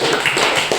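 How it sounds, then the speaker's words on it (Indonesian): A classroom of children clapping for three student groups, a short burst of brisk, dense clapping heard close up, with no talking. "tepuk tangan untuk 3 kelompok ini yang sudah"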